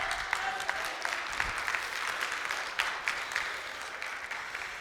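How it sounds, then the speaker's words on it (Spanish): Church congregation clapping in praise of Christ during a Spanish-language sermon, a fairly faint, continuous dense patter of many hands with scattered sharper claps throughout. "Den un aplauso fuerte a Cristo."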